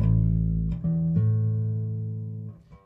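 Plain, clean bass guitar notes with the EWS Tri Logic II preamp pedal switched off, a low sustained tone shifting pitch a couple of times and ringing out with a few soft plucks.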